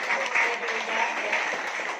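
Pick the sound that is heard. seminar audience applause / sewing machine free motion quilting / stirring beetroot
seminar audience applause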